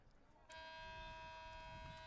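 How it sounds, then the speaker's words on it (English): The halftime buzzer sounds at a boys' varsity high school soccer game, a sustained electronic tone starting suddenly and holding steadily, faint and distant over low field ambience. "As that's the halftime buzzer"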